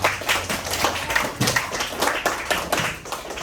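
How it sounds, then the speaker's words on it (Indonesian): A small classroom group claps for themselves in a rhythmic pattern of sharp, evenly spaced bursts, close and fairly loud, with no talking. "tepuk tangan untuk diri sendiri"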